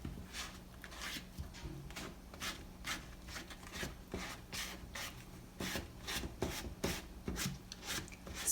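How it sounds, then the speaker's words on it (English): A utensil scrapes dry brownie mix powder from the sides of a bowl toward the middle in quick, repeated rasping strokes, soft and close with no talking. "I'm scraping it into the middle to make sure that it is all consistent."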